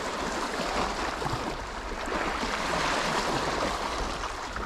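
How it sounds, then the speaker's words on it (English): Choppy sea water lapping steadily in the early morning, a continuous broadband wash of small waves with a faint breeze, close and even, with no voices. "There is a little bit of a chop to the water."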